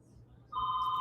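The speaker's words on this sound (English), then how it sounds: "That's a fax machine." An office fax machine rings like a telephone, a sudden bright electronic tone that starts halfway through and holds steady and fairly loud over a quiet room.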